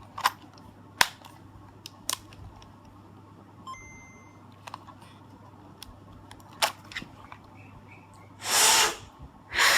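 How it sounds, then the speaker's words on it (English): A person blows hard into a Game Boy cartridge, two breathy gusts of air near the end, following scattered plastic clicks and handling taps, with no speech. "we used to blow inside cartridges to make them work"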